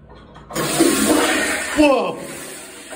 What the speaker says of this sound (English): Did you flush the toilet?